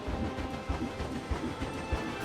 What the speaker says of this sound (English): We have a train passing by.